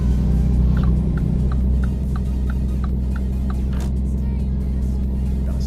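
Truck engine in a driving simulator game, a steady low rumble that holds throughout with a slight drop in level partway, alone without talk.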